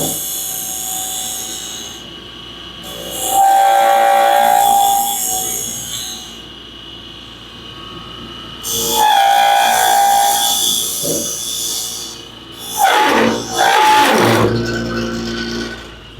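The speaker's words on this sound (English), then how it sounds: "So we're going to use a bowl hollower." A wood lathe turns a miniature piece while a bowl hollower cuts into it, giving loud bursts of rough, whooshing scraping with shrill squeals that come and go between quieter stretches of motor hum, close up, with no talking.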